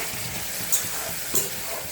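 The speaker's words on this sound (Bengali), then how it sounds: "মশলার বাটিটা ধুয়ে অল্প করে একটুখানি জল দিয়ে দিচ্ছি।" Water poured into hot spice mixture in a pan for a Gandhoraj katla fish curry gives a steady soft sizzle with a couple of brief clinks, fairly quiet and close, with no talk.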